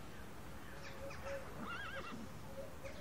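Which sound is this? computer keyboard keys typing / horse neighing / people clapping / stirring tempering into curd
horse neighing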